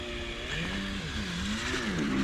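A Tamiya TT02 radio-controlled Lancia Delta Integrale rally car whining its small electric motor on snow, a continuous high rising-and-falling pitch as it struggles for grip, close and alone.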